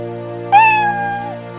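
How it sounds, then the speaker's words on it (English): A kitten gives a single clear, high meow lasting under a second, close and distinct over a steady background tone from a children's alphabet song. "K for kitten."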